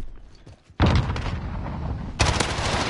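Gunfire and explosive blasts during a Modern Warfare Search and Destroy match on Hackney Yard with an RPG in use: a sudden loud burst of rapid shots, then a second heavy blast, close and dominant.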